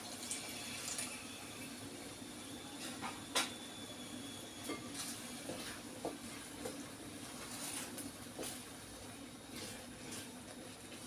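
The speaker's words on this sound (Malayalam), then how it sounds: "നമുക്ക് ഇത്തിരി തിളച്ച വെള്ളവും കൂടി ഒഴിച്ചു കൊടുക്കാം കേട്ടോ." Boiling hot water poured into a cooking pan of a simmering curry, a soft running, splashing trickle that carries on for several seconds at low level amid faint kitchen clatter.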